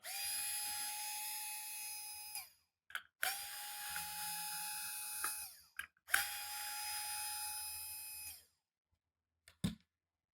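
Three sustained runs of a high motor whine from a Phillips screwdriver removing screws from the shell of an EZ-B robot controller, separated by short gaps and ending in a few small clicks, close by.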